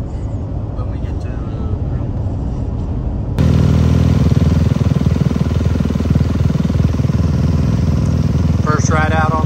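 A new Cali motorcycle engine starts up loud and close after a few seconds of quieter outdoor rumble, then runs with a steady throbbing drone to the end.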